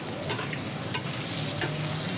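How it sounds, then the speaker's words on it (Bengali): Onions fry with whole spices in a pan, giving a dense, steady close-up sizzle broken by a few sharp scrapes of stirring. "এখন আমি লাল লাল করে ভেজে নেব।"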